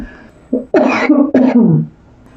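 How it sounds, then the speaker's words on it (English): A close, loud cough in two quick bursts, with a faint voice at the start. "Common for me to cough during a reading."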